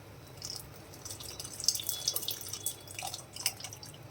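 Tamarind water pours and splashes into a pot of vada kuzhambu curry in uneven bursts, with bright dripping and trickling sounds up close.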